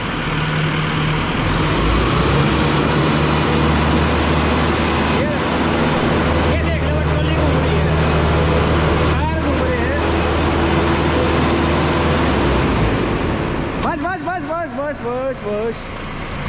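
A Mahindra Novo 755 CRDI diesel tractor engine runs and revs under load, a steady loud rumble with broadband noise, then drops away near the end as a voice talks over it.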